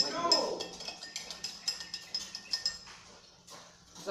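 Honey lemonade being stirred in a glass makes quick, light clinks of a spoon against the sides, repeating in an even rhythm close by and gradually slowing.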